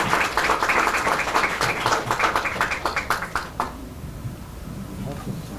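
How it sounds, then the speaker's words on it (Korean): An audience at a data forum seminar claps to welcome the Mirint CEO, with brisk applause for about three and a half seconds that then stops abruptly, leaving quiet room tone. "여러분 다시 한번 미린트 대표님을 큰 박수로 맞이해주시기 바라겠습니다"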